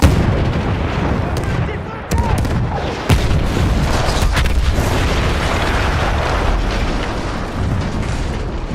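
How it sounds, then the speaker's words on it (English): Battlefield 1 explosions in a World War I battle at Vittorio Veneto: a sharp blast and a heavy boom stand out amid continuous rumbling gunfire and artillery, with Italian soldiers shouting beneath. "That explosion was one of the sweetest sights of the war for me."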